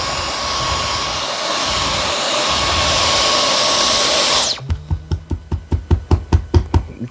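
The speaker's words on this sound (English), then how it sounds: "Now you vacuum the cyclone separator out just like this." A loud Bissell Multi Clean vacuum cleaner whines steadily with a high-pitched motor tone while vacuuming out a cyclone separator, then cuts off and spins down into a series of rhythmic knocking pulses.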